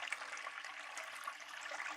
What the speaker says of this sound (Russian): ставлю напор воды, чтобы создавалось закручивание воды